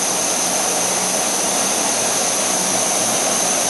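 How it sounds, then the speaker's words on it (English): An MSR Whisperlite International camping stove burns with a loud, steady jet-like roar, a continuous broadband rush with no breaks. "this stove is named the Whisperlite, and I'm not really sure who named it, because that resembles more of a jet engine sound"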